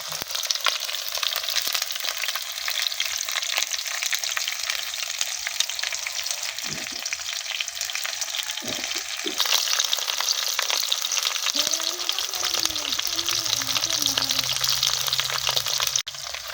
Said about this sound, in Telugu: నూనెలా వేగాలి మంచిగా.